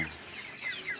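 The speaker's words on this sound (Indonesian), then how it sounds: "Ayamnya ini banyak, subhanallah." Week-old Joper chickens on a farm give a constant overlapping chorus of soft, high peeping clucks, close and moderately quiet, with no talking.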